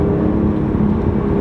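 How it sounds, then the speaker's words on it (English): BMW i8 hybrid supercar accelerating in sport mode with the turbo spooling, a steady loud low engine drone heard from inside the cabin, continuous and even throughout with no talking. "you hear the engine a lot more with the turbo spools"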